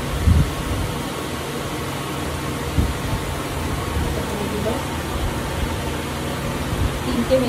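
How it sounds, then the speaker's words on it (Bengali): Three candle-making machines run at once on a factory floor ahead of Diwali, giving a steady broadband mechanical hum with faint rhythmic clatter and a few louder knocks throughout, no voices. "তিনটে মেশিন চালাচ্ছে একসাথে, ওই একটা"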